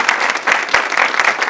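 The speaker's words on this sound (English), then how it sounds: "Can we just join in giving them a round of applause?" Brief round of applause from an audience at a memorial lecture, dense clapping held at a steady, fairly loud level for its short length with no voices.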